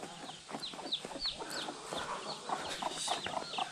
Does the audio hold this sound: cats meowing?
no